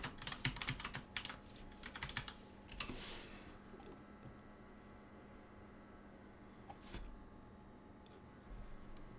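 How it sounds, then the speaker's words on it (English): Someone types on a computer keyboard during a computer science review session, with quiet clicking bursts that come in clusters and then thin out, faint and close with no talk. "While you're typing that, I'll type this one out."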